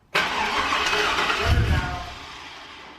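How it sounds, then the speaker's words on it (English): A supercharged GMC truck engine cranks and catches, firing up abruptly and roaring close and loud before easing into a rough, settling idle over a few seconds, with no talk. "we're about ready to fire it up for the first time since having it all apart"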